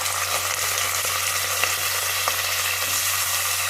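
Onion and vegetables frying in a pan and being stirred while cooking bisi bele bath: a loud, continuous, close sizzle with faint scraping from the stirring and no voices.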